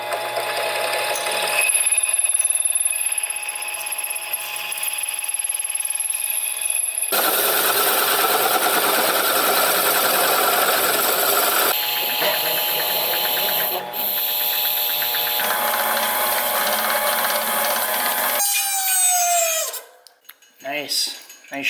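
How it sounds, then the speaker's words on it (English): A metal lathe spins down the flare on a pipe for a Vortec 4200 2JZ intake manifold. Loud continuous whirring and tonal metal ringing shifts in several sections, then ends in a brief rising screech and clatter. "so I spun that flare down a little bit on the lathe, and now they match"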